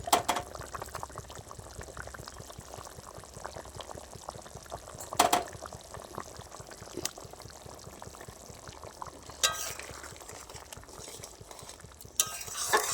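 A rohu fish curry with potatoes simmers and bubbles in a pan, a continuous soft boiling burble with occasional louder scrapes and splashy stirring strokes.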